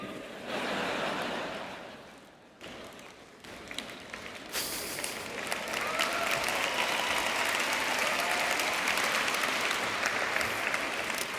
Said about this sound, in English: I think it's the parents that are applauding at that one.